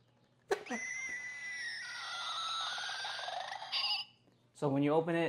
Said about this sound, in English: just like in the movie, it screams